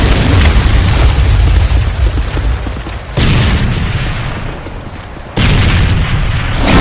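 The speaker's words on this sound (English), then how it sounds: "Friendly Predator missile inbound." A Predator missile strike in a first-person shooter game lands as heavy, loud explosive booms. Three blasts hit in sequence, each a sharp burst that fades into a rumbling roar, with no voices.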